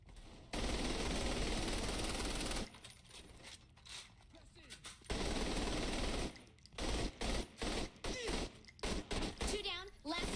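Video game gunfire, long loud bursts of rapid automatic shooting broken by pauses, then short choppy volleys toward the end, close and dominant with no talk over it.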